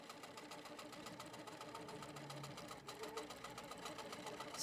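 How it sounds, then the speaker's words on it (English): An HQ Pro-Stitcher computerized quilting machine stitches across a quilt top, giving a fast, even mechanical chatter with a low motor hum, steady and fairly faint throughout. "now it's going to stitch across the top and stop"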